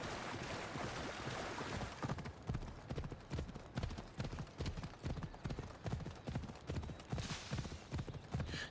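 Continuous galloping hooves of a deer ridden as a mount in Assassin's Creed Odyssey, a fast even clatter that runs on for several seconds over a soft wash of background ambience.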